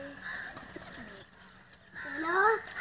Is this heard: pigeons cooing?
yes